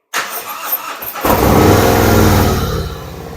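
A Harley-Davidson motorcycle fitted with Bassani cone head pipes cranks for about a second, then fires up into a loud, deep, steady rumble that stays close and fills the rest of the clip with no talk.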